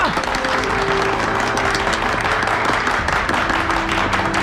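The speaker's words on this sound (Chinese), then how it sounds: "出工了，鼓掌！" Applause from a group of workers at a submarine test-cabin site, loud steady clapping filling the space with some voices mixed in.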